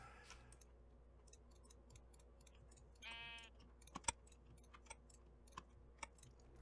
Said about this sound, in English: There's a pink sheep buried in there.